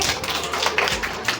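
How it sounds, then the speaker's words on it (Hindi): Group of children clapping for a classmate in a primary school Urdu lesson, a dense, fairly steady patter of hand claps heard up close with no voices over it. "जोरदार क्लैप करो सब बच्चे के लिए"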